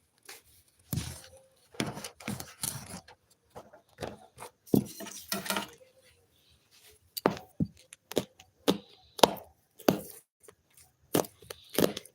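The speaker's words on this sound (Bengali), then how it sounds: "এখন পেঁয়াজ লঙ্কাটা চলো কেটে নেই" Knife strikes on a board chop onion and green chilli, with sharp, close, irregular taps in uneven clusters and short pauses between them.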